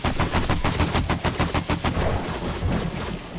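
Rapid bursts of automatic gunfire in the survival video game 7 Days to Die, a loud, dense string of sharp repeated shots with brief gaps, no talking.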